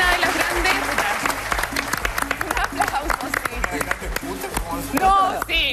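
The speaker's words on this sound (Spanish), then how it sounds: "Un aplauso, sí." Studio audience applauds on the Mentiras Verdaderas talk show, a loud dense clapping wash that runs steadily throughout, with speech babble mixed in and a brief voice near the end.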